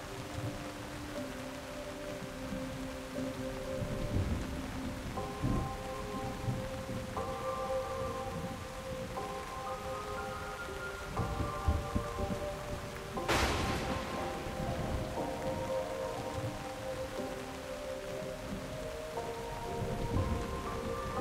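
Steady rain pours throughout a thunderstorm in a Korean mystery video game. A sharp thunder crack lands midway, low rumbles come and go, and soft synth tones play underneath, with no voices.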